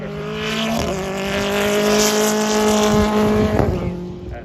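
A Toyota Corolla touring car laps the Snetterton circuit, its engine note rising loud and near as it passes and then falling away, with a shift partway through.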